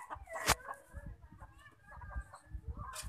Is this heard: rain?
no